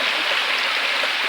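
A waterfall pours into a stream with a brief, steady, hissing rush of flowing water, close and even in level throughout.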